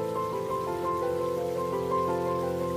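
Torrential monsoon rain falls steadily on a tropical forest, a dense and continuous patter of drops with no voices.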